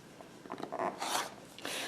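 A blade slices through fabric on a worn cutting board with short, soft scraping strokes that build to a longer rasping cut, close and quiet.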